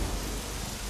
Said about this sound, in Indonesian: Lihat hujan ini.